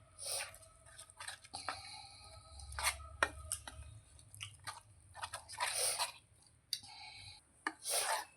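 Bread pakoda batter being stirred by hand, with irregular soft scraping and sloshing strokes in a bowl, close and quiet, with pauses between bursts.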